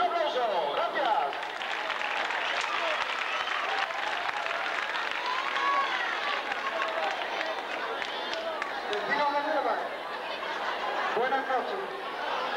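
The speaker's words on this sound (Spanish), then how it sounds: "¡Un aplauso!" Crowd applause at a town festival night for San Bartolomé, dense steady clapping with scattered voices and some chatter mixed in, sustained at an even level throughout.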